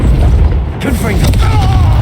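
A Confringo fire spell explodes in Hogwarts Legacy with a loud, low boom followed by rumbling, crackling debris and mechanical rattles over a dense game soundscape.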